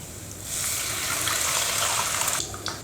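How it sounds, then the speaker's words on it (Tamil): Tamarind water pours into a cooking pan for a Sundakkai vathal kuzhambu, a steady splashing, hissing stream lasting about two seconds, near and fairly loud, with no talk. "இப்போ இந்த புளி கரைசலை சேர்த்துடுறேன்."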